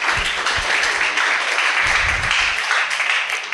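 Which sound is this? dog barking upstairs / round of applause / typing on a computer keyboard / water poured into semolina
round of applause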